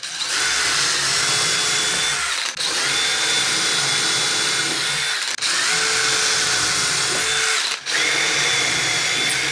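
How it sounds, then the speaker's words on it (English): Power drill driving four screws into the top of a mobile mitre saw bench in a workshop, a loud continuous whine broken by three short pauses between screws, no talking. "I've just got 4 screws to put in now to finish the top off."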